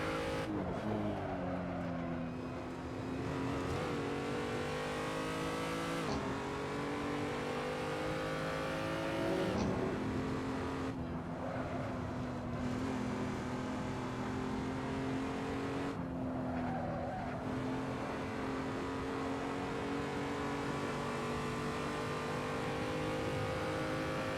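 A BMW M235i engine drones through a lap of the Nordschleife in Assetto Corsa, holding steady revs with a few upshifts and pitch drops, a continuous moderately loud hum with no talking.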